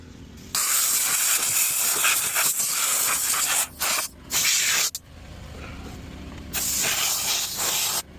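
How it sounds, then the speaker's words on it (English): A spray bottle hisses repeatedly inside a car during interior detailing, several long, loud sprays separated by brief pauses, close to the listener. "Now, one thing here, spray it down,"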